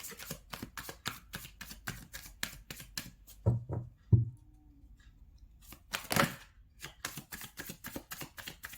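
Tarot cards riffled and shuffled in a steady run of quick papery flicks, then a pause with a couple of soft taps as cards are drawn, followed by more rapid close shuffling.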